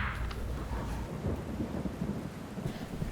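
Rain patters steadily while deep thunder rumbles low and continuous underneath, with no one speaking.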